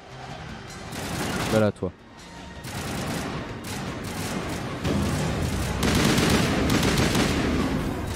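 Rapid gunfire from Mass Effect combat, with repeated bursts and sustained shooting under intermittent speech and game voices, loud and continuous.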